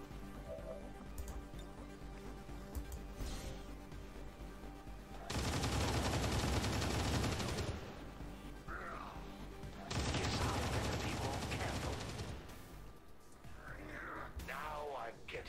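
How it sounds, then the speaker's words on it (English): Bursts of rapid gunfire in XCOM 2, two dense sustained volleys of a couple of seconds each, loud against a quieter background with a voice speaking between them. "Moves to here, and we can rapid fire."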